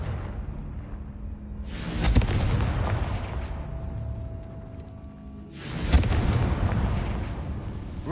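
Two heavy blasts from the Confringo explosive spell in Hogwarts Legacy boom out a few seconds apart, each with a sharp crack followed by a long rumbling roar that slowly fades.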